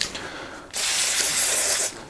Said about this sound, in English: Spray it with one step.